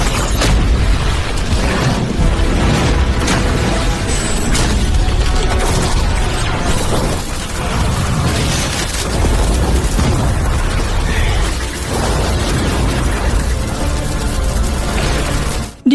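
Explosions in an animated fight scene make a continuous loud barrage of booms, crashes and bursts with no pause.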